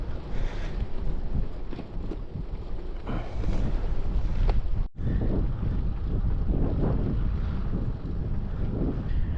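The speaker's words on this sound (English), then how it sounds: "It's still windy, still in our face" Strong wind in the Australian outback buffets the microphone in continuous low roaring gusts, loud and close, with a brief sharp dropout midway and no talking.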